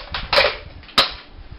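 Buzz Bee air blaster toy gun being cocked and fired: a plastic rattle leads to a sharp snap, then a second crisp pop, close and loud.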